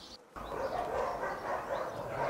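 Dogs at an animal shelter in Dinant bark steadily and fairly close, with overlapping yaps and whimpers that form a continuous, busy chorus.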